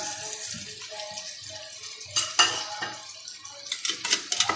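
Fried taro (arbi) pieces tipped into a spice mix in a pan for an aubergine dish, with close metallic clatter and scraping of a utensil against the pan in irregular bursts, sharper clinks near the end, no talking.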